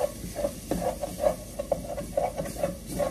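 Metal utensil scraping the bottom of a cooking pan of harira, producing a steady series of short rhythmic scrapes and stirring strokes, close and moderately loud, with no talking.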